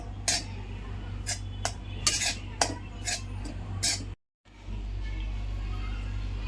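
Grated coconut stirred and roasted in a pan for ukadiche modak: a utensil scrapes and clinks against the metal in irregular strokes over a low steady hum, with a brief dropout partway through.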